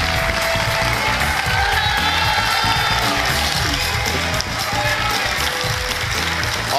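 A TV quiz-show studio audience applauds and cheers for three contestants, a dense steady wash of clapping with scattered whoops filling the whole stretch, loud and close.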